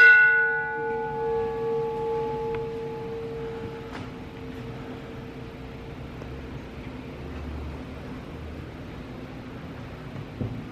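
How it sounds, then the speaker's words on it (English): A ship's bell aboard a replica of the ironclad CSS Neuse is struck once near the start, its clear metallic tone ringing and slowly fading into quiet room ambience. "Just gonna ring the bell."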